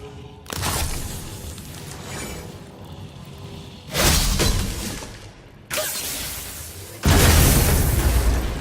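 Objects shattering in the God of War video game, four loud booming bursts of breaking debris spaced a couple of seconds apart, each decaying into rumble.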